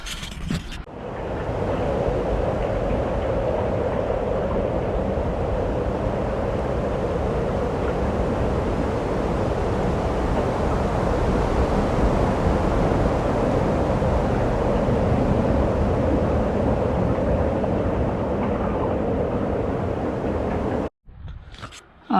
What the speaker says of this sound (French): derrière moi, il y a le bruit des vagues